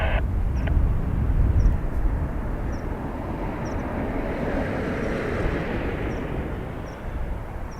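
A Ryanair airliner taking off from Dublin Airport bound for Catania produces a steady, loud rumbling roar throughout, with faint high chirps recurring in the background.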